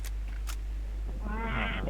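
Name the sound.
cat meowing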